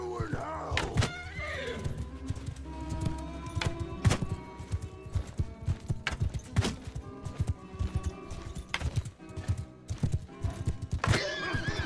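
Horses in a Mount & Blade II: Bannerlord battle give several loud whinnies over a busy mix of hoof clip-clops, impact thuds and combat clatter, some whinnies close and some farther off.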